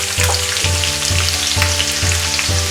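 Onion frying in oil with black cumin and green chili, a loud, close, crackling sizzle with a rhythmic low thumping repeating about every half second underneath.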